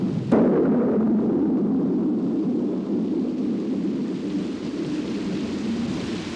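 Tropical storm breaking over the Nile: a sharp thunder crack near the start gives way to a steady, dense roar of heavy downpour that continues unbroken to the end.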